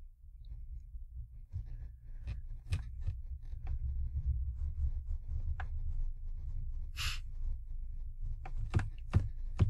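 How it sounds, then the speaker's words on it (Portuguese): Computer mouse buttons click sharply at irregular intervals, a scattering of crisp isolated taps over a low, quiet background hum. "Clica no botão esquerdo, salva a imagem como?"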